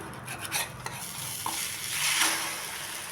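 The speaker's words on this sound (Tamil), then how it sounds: "இப்போ முட்டையை ஊற்றிடலாம். முட்டையை திருப்பி போட்டுடலாம்." An egg omelette fries in a pan with a steady sizzle and scraping, stirring sounds as it is turned, moderately loud and alone without talk.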